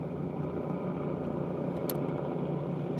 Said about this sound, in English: Truck on the highway.